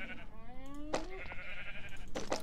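A sheep in Minecraft bleats once, a wavering nasal call rising in pitch, followed by shorter bleat-like bursts near the end, moderately close over a quiet background.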